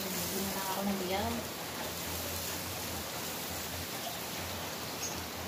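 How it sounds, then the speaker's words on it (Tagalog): Heavy rain pours in a steady broadband hiss, with a voice speaking briefly over it near the start before the downpour carries on alone. "Sobrang lakas ng ulan guys."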